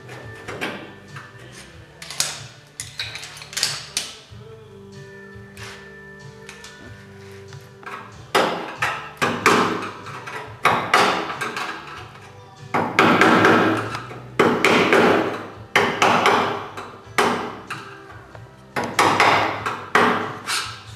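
A hammer working out small bends in classic car body sheet metal, with irregular bursts of sharp metallic taps and ringing pings, some close and loud, mixed with scraping and clattering.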